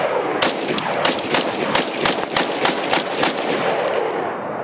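A Springfield Armory Hellion bullpup rifle fires a rapid string of loud, close gunshots, about a dozen sharp reports in quick uneven succession with ringing decay between them.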